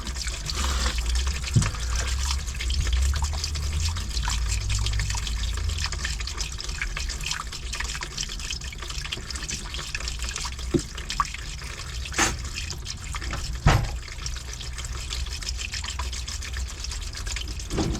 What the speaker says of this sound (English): See, that's a fair amount of water coming out of there.